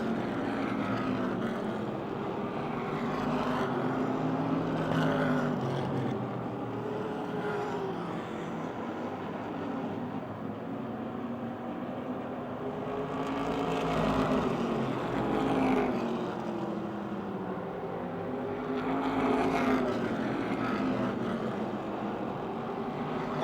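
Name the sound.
race cars lapping a dirt oval speedway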